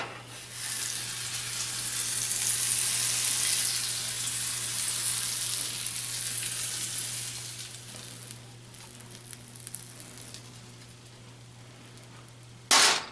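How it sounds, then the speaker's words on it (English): A farm-fresh egg fries in a dry Cuisinart Multiclad Pro stainless steel pan, giving a loud, steady close-up sizzle that gradually softens and thins out toward the end. "Then we'll drop our egg in."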